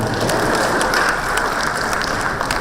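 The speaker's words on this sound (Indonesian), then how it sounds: "Tepuk tangan buat Kamiti" Applause at a lunch symposium for an eye clinic at a medical conference, a dense, steady wash of many hands clapping at once, loud and sustained throughout without pause.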